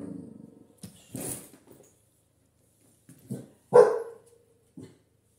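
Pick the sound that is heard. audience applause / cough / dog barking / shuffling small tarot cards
dog barking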